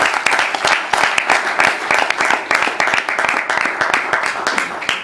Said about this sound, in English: One round of big applause for district governor.